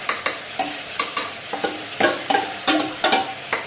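Meat cooking in a pot with plenty of oil: close, repeated scraping stirs roughly every half second over a steady sizzle, with no voices.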